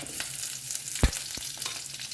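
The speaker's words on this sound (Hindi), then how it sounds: "इसको हल्का सा फ्राई करके ले" Cumin, curry leaves and garlic fry in a pan with a steady close sizzle and a single stirring knock midway, with no speech.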